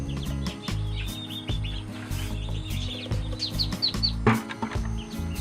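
A hatch of ducklings peeping together in a steady chorus of high, rapid chirps close by, with low background hum and no talk.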